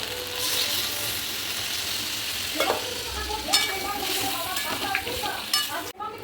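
Chilli chicken sizzles and bubbles steadily in a pan while a spoon scrapes and stirs through it in scattered clinks, close and moderately loud.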